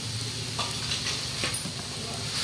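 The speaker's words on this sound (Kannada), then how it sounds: "ಈಗ ಇದನ್ನ ಈ ಥರ ಮಿಕ್ಸ್ ಮಾಡ್ಕೊಳ್ಳೋಣ್ರಿ" Spiced egg tawa pulao with garam masala and pepper powder stirred in a pan: a steady close sizzle and frying hiss under continuous scraping of a spoon against the metal, with no talk.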